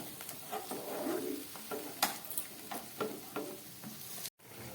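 Spice paste for tangra fish curry sizzling in a pan as water is added, a soft steady crackling fry with light stirring scrapes, fairly faint and without talk.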